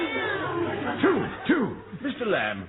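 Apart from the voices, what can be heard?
cat meowing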